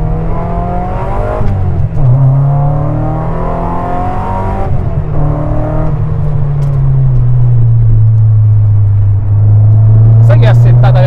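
A Lotus Elise S2 111S on a bumpy road roars loudly from inside the cabin, its engine note climbing and dropping through gear changes and revs, with voices talking over it.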